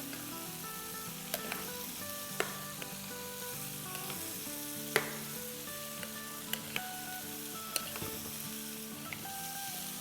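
Kafta kabab mixture sizzles and crackles steadily in a hot pan while being stirred, with occasional sharp spoon taps and scrapes cutting through the continuous frying hiss.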